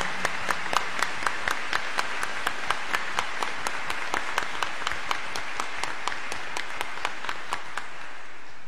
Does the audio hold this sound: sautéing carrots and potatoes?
no